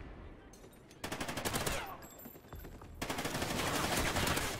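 Gunfire in Ghost Recon, with long rapid automatic bursts that start abruptly, break off, and then resume, loud and close, with no talking.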